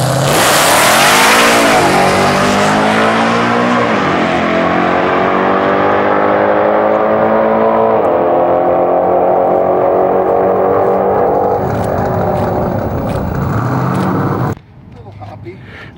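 Drag race car launching and accelerating down the strip at a test night, a very loud, sustained engine roar climbing in pitch through several gear changes before cutting off abruptly near the end.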